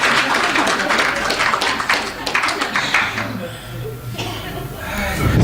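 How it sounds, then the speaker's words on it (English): An audience at a presentation claps in a dense burst of applause that fades after a couple of seconds, followed by a speaker talking and a few scattered chuckles. "You can give me a round of applause if you want to."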